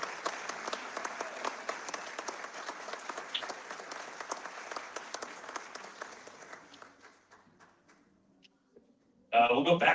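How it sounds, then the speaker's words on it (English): Audience applause at a McFarlane DC Multiverse convention panel, a sustained patter of many hands that gradually thins and fades out, followed by an abrupt burst of louder noise at the very end. "So a round of applause."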